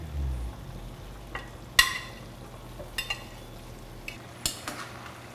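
Vegetables being stirred back into a noodle mix in a pan for mi xao don, heard as scattered utensil scrapes and clinks against the pan over a faint sizzle.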